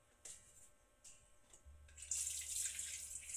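Tap water runs into a sink as a used cooking pan is rinsed, faint at first with a few clanks, then a steady louder gush of running water.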